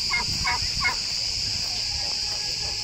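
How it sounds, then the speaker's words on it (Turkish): Several turkeys gobble at an outdoor picnic area in Uzuncaburç, a few short calls early on, moderately near, over a steady high insect-like drone and general outdoor ambience. "Burada 3 tane hindi var."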